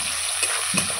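Tomato and onion frying in a pan for a chicken curry with ground spices, a close steady sizzle broken by two soft stirring scrapes, with no voices.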